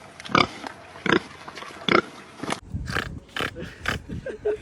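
A person imitates a pig's oinking with several short, loud grunting snorts in a loose rhythm, then chatter and more scattered vocal noises follow close up.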